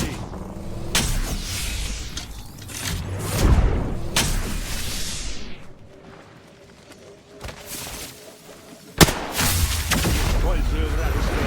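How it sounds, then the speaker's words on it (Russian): Sharp gunfire bursts and booms from a smart-bullet weapon in the Apex Legends video game ring out at intervals amid whooshes and mechanical effects, with a loud crack near the end. "Выстрел умной пули."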